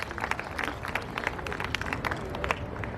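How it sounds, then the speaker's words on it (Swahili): Audience applause at a college memorial service for a late CEO, a steady crowd of clapping hands with scattered sharper claps, moderately loud and continuous for about three seconds. "Tumpigie makofi tafadhali."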